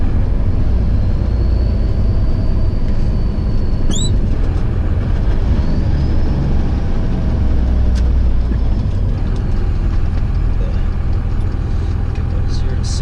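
A dually pickup truck pulls hard under a loud, steady engine and road roar that stays continuous throughout, heard from inside the cab.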